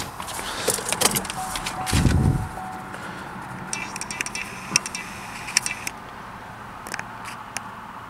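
Electric windows in a Vauxhall Insignia 1.8 diesel run with a brief motor whir followed by a low thud, among close clicks and taps of cabin switches, with no talking.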